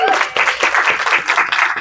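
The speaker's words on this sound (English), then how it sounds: "Let's give her a round of applause." A small audience claps briefly for a birthday, with quick bursts of clapping that fade in and out across a couple of seconds, fairly close and loud.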